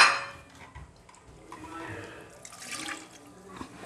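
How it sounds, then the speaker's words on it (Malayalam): Water being poured into a pressure cooker holding beef, a brief splash and trickle with some clinking of the pot, fairly quiet and close. "ഈ ബീഫ് കുക്കറിലോട്ട് ഇട്ട് ഒരു പൊടിക്ക് വെള്ളം ഒഴിക്കാം"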